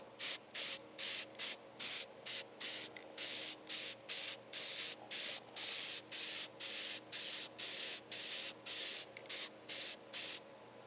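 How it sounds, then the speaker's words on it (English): Rust reformer sprayed from an aerosol can onto the rear suspension parts of a 1972 Monte Carlo, heard as a steady series of about two dozen short, even hissing bursts with brief gaps, close and fairly loud, no talking. "now we're going to spray it with the rust reformer and make them brand new"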